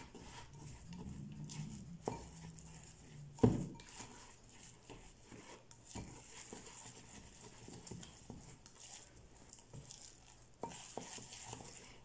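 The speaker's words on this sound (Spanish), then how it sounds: "Seguimos mezclando nuestras galletitas exquisitas." Flaxseed and yogurt cookie dough sweetened with stevia being mixed by hand, giving quiet, close scraping and stirring with an occasional soft knock against the bowl.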